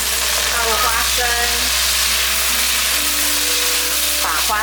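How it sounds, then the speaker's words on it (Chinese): Peanuts stir-fried in a wok with soy sauce, giving a steady broadband sizzle throughout, with a few brief tonal scrapes and clinks of the spatula. "把花生炒入味。"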